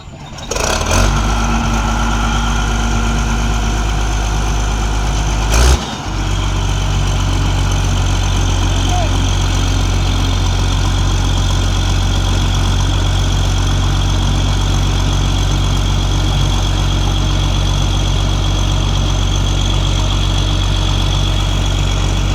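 A road grader's heavy diesel engine idles at a road-building site, a loud, close, unbroken low rumble with a couple of brief knocks near the start.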